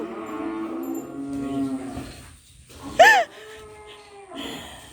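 Cattle in a flooded cow pen give one loud, close moo in the middle, set among quieter low lowing and faint background voices talking.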